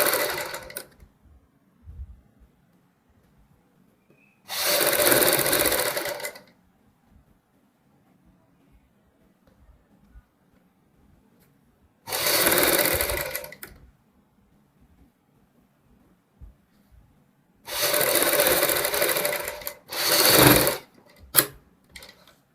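A sewing machine stitches piping and buckram along the back neck of a blouse in four distinct bursts of fast, even whirring, the last two close together, separated by near silence.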